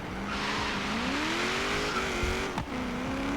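Chevrolet SS Super Sport with a 6.2-litre V8 in the Forza Horizon racing game, its engine droning and rising in pitch as it revs, with brief tire squeal, loud and steady with no voices.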